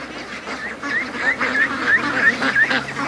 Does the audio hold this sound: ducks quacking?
yes